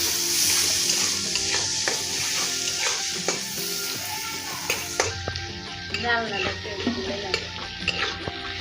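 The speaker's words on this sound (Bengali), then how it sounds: "কাঁচামরিচটা সুন্দর করে তেলে ভাজবো।" Green chillies and chopped onions frying in hot oil in a wok, a steady loud sizzle with scraping stirs and spatula clinks throughout, close up, while cooking prawn head and mung dal malai curry.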